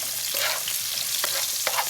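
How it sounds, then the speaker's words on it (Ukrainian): Steady loud sizzling of onion frying in a hot pan, with occasional stirring scrapes and pops, heard close up without talk. "але перше хай цибулька смажиться"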